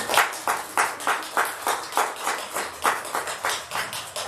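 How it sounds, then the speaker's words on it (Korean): A church congregation claps together in a steady rhythmic beat, around a dozen evenly spaced claps from a group, close and moderately loud with no talking. "우리 박수로 한번."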